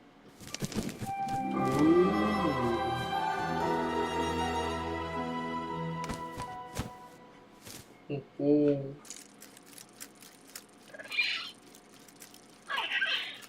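An owl in the adventure game Syberia hoots and calls in short bursts over dense game music and sound effects, with a person talking over it.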